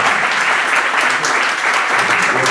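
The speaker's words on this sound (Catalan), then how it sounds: "un aplaudiment" An indoor audience at an ensemble concert in a shop applauds, a dense, steady burst of clapping that stays loud and even throughout.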